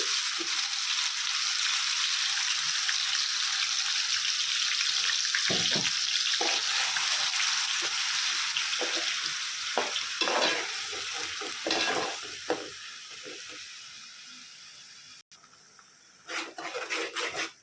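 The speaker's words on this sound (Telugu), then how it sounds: "ఇది వేగుతూ ఉంటుందండి, మీడియం ఫ్లేమ్లో వేపుకుందాం దీన్ని." A ground onion, tomato and green chili paste with bay leaves fries in oil in a pan over a medium flame for a prawn curry, a steady sizzle with occasional spoon scrapes and stirring, and a brief splash of running water.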